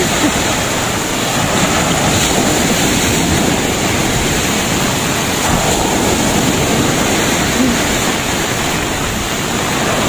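Storm-driven surf pounds a white-sand beach at Masbate in a loud, unbroken wash of noise, with gusting wind rumbling against the microphone throughout.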